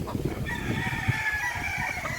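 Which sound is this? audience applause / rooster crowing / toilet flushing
rooster crowing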